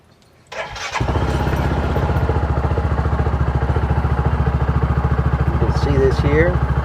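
A Hisun Axis 700 UTV engine cranks briefly and catches, then settles into a loud, steady idle with a close, even chug.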